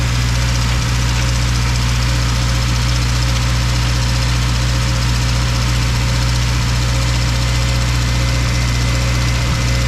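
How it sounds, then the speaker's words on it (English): A freshly turbocharged Mugen engine in a Honda-style RT 4WD wagon idles for the first time, a loud, steady, rumbling drone with constant vibration and no talk over it. "First fire up on the Mugen for real. It's gonna sound like an airplane."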